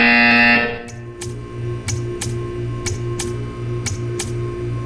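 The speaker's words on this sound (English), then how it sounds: "When you hear the buzzer, stare at the art." A loud sustained buzzer in the video game Portal 2 sounds, then cuts off, followed by a steady series of regular ticking clicks over a low pulsing hum.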